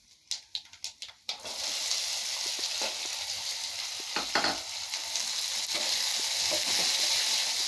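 Chana dal and mustard seeds fry in oil for poha upma, opening with several rapid popping crackles before settling into a loud, steady sizzle with occasional stirring scrapes and no voices.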